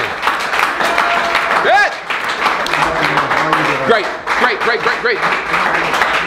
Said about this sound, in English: ask for a special round of applause to the man that got us here